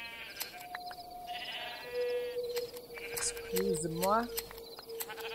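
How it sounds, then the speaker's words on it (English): Sheep bleat several times in a farming video game, a wavering call rising and falling in the middle of the clip over steady game music and ambience, while someone speaks briefly. "Okay, I'm going to get some more white wool from the sheep here."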